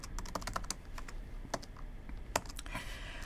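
Rapid clicking keystrokes on a computer keyboard while entering code, irregular bursts of sharp taps close to the microphone with short pauses between, heard alone without talk.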